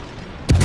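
Naval gun rounds firing in World of Warships, a single sudden heavy boom bursting in after quiet and rumbling on, loud and close.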